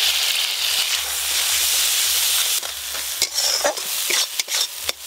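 Spices frying in oil for a tangra fish curry, with a loud steady sizzle and hiss at first, then scraping stirs and clatters of the spoon against the pan as the sizzle settles.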